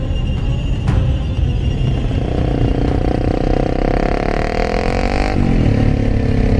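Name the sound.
motorcycle arriving and stopping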